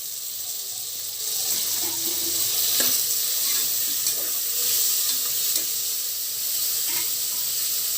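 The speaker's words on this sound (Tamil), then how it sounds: "இது எல்லாமே நல்லா வதங்கி வரட்டும்." Steady sizzling of onions and tomatoes sautéing in a pan, with occasional scraping stirs and clinks, continuous and close throughout.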